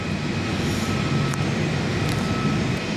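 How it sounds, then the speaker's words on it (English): Steady, loud roar of a Virgin Australia Boeing 737-8 jet landing at Perth Airport, a continuous broadband engine rumble that holds level through the whole stretch with no voices. "Virgin Aussie 737-8, it's just landing the other direction now."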